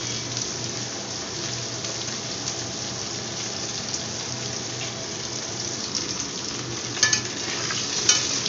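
Fish sizzles and spits in hot oil in a wok, a steady dense frying hiss close by throughout, with a few sharper pops and stirring clatters near the end; no one speaks.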